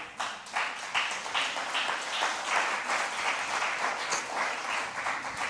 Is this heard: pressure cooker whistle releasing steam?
no